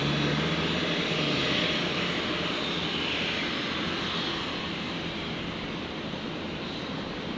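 Qantas 51 airliner departing Brisbane for Singapore, a continuous heavy engine roar that stays strong and steady, slowly easing slightly toward the end.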